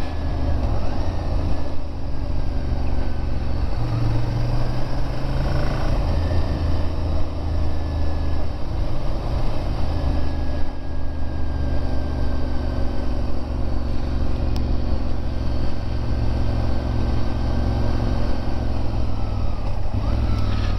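A 690 motorcycle engine ridden slowly on the Isle of Man TT course, a continuous loud low engine drone with wind rush, shifting pitch gently as it rolls through tight corners.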